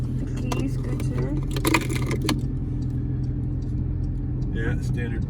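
A standard Porsche key jangles in a few bright clinking bursts inside a Porsche 992 GT3, over a steady low engine rumble, with people talking through it.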